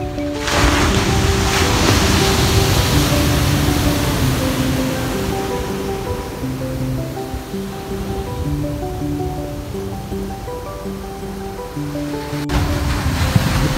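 Ocean waves wash steadily onto a pebble beach at Champ Borne on Réunion, a continuous loud surf roar with wind, overlaid by a soft melodic tune.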